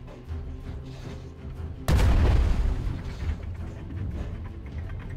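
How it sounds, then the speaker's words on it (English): A cannon fires in the airship game Worlds Adrift, one sudden loud boom cutting in partway through over a background of mechanical clatter and low engine rumble, then a lingering rumbling decay. "I'm shooting a cannon"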